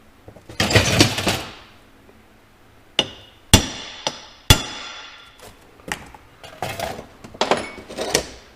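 A hammer strikes a metal center punch to mark steel during a snowblower-to-skid-steer conversion, several sharp metallic taps spaced irregularly, close and clear with no talking.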